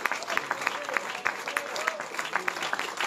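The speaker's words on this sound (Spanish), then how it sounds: "denle un aplauso al Señor Jesucristo" A church congregation applauds with brisk, scattered clapping at a moderate distance, while a voice speaks over the top of it.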